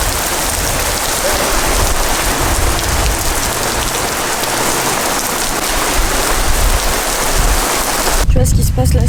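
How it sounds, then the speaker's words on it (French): Heavy rain pours onto a hard surface in Bordeaux, a loud, dense, steady hiss of drops close by that runs throughout and shifts abruptly in the last second. "Et là on est sur la pluie."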